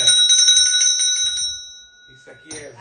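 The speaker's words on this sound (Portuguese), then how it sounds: "Eu tenho sino também." A hand bell rings in a fast metallic jingle for about a second and a half, its bright tone fading out, then jingles again briefly, close by, with a voice speaking at moments.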